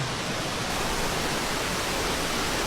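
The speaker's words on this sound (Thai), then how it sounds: "อันนี้ก็คือน้ำตก ชันกระเถนชั้นสามนะครับ" Chan Kra Thoen waterfall, tier three, pours in a steady, dense roar of falling water, loud and close, with no voices over it.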